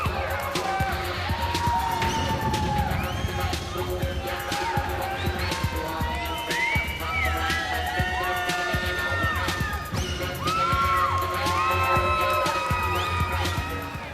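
Spectators at a bodybuilding contest cheer and whoop steadily, a dense crowd roar with scattered shouts and whistles running throughout.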